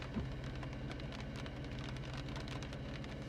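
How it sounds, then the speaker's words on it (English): Steady soft hiss of rain falling from a nearby storm, heard from inside a vehicle during a chase in Montana, a constant low wash with faint scattered patters and a rumbling undertone, with no talking. "Starting to get some rain from the storm to my west."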